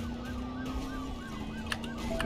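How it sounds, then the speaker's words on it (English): Ambulance siren from the racing video game Driver San Francisco wails in a steady repeating up-and-down cycle, moderately loud over a constant engine drone, with no talking. "Ambulance."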